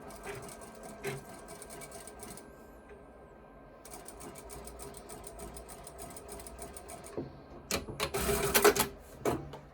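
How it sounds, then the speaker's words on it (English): A sewing machine edge stitching a fabric scrunchie, running in rapid mechanical bursts with a brief pause, then a louder, faster final run, close and with no talk. "We are just going to edge stitch this really nice and clean."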